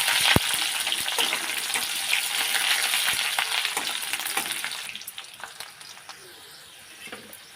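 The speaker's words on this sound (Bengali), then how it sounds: "পেঁয়াজটা একটু লাল করে ভেজে নিয়েছি" Onion and garlic fry in oil with black cumin seeds, giving a strong, bright sizzle with scattered crackles and stirring scrapes. The sizzle stays loud, then fades noticeably over the last few seconds.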